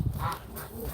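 Ducklings make brief honking, quacking calls close by, a couple of short nasal bursts within one second over a faint rustling background.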